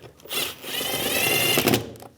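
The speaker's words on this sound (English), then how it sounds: "Now put the 2 bottom bolts in, tighten those down" Power tool whirring as the bottom bolts of a window regulator are tightened down on a 2015-2020 GMC Yukon, one short continuous high-pitched spin, close and loud, ending in a couple of clicks.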